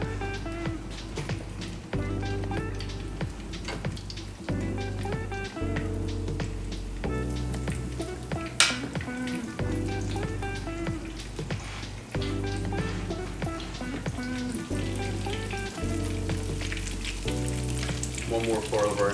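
Vegan fried chicken pieces coated in breading fry in a pan of oil, giving a steady, continuous sizzle that runs the whole time under rhythmic background music.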